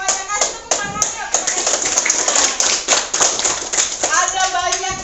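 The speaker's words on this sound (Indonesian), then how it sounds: "Kasih tepuk tangan yuk." Students in a school classroom clap together after a group activity, producing loud, dense, sustained applause that continues throughout, with some voices mixed in.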